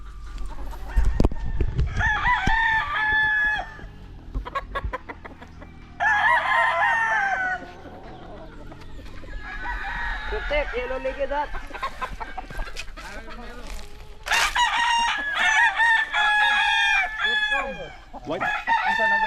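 Yellow-legged gamefowl roosters at a breeding farm crowing loudly and repeatedly, several long drawn-out calls from different birds near and farther off, with clucks and brief rustling in between.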